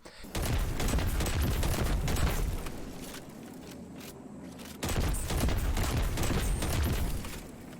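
Linear fusion rifle fire in the video game Destiny 2, two dense, loud bursts of rapid crackling shots with heavy booming impacts, separated by a brief lull, with no talk.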